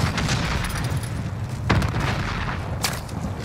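Gunfire in Warzone, a rapid rattle of shots and booming reports in steady bursts, loud and close, with a couple of sharper cracks standing out and no talk.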